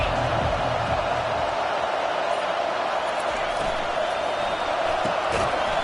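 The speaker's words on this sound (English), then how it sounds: "This crowd bringing an ear-splitting welcome to their visitors." A Clemson football stadium crowd roars and cheers in a dense, continuous wall of noise with no breaks, filling the whole stretch loudly.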